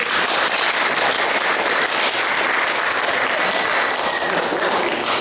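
Sustained applause from a theatre audience at the tenth-anniversary celebration of a poetry theatre in a manor museum, a dense, steady wash of many hands clapping close by without a break.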